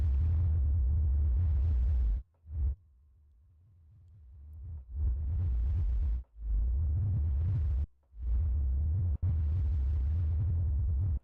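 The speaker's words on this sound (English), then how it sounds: "if we go reverse the modulation actually on the filter, we're actually getting close to a riser sound, uprising sound" A synthesizer bass patch with reversed filter modulation swells into loud, noisy, bass-heavy washes that rise and cut off abruptly several times, separated by short gaps and one quieter build.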